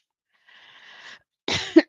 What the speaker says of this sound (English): Don't start coughing now.